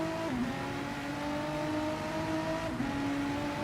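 GR3 race car engine at the Nürburgring Nordschleife on a wet track, droning steadily with the throttle feathered on and off, pitch dipping and recovering twice over a few seconds, no voices.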